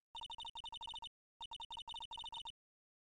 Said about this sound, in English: You pressed the redial on that phone.